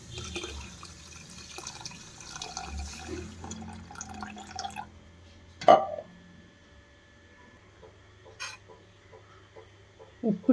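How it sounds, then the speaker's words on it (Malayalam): Water poured into a pot of rasam, a soft trickling flow for several seconds, then quiet with occasional drips and sharp knocks of the vessel near the end. "കുറച്ചും കൂടി ഒഴിച്ചു കൊടുക്കാം കേട്ടോ വെള്ളം."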